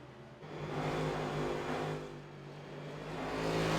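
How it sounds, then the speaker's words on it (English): A Cup Series race car's engine revs up hard on a concrete oval track, a sustained loud mid-pitched roar that swells, eases slightly, then climbs again, with no voices. "Just Cash throttling it up a little bit too much."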